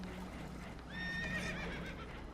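Spooked horses neigh in the video game Red Dead Redemption 2, one shrill whinny rising and wavering over a steady low rumble of boat and water, moderately close.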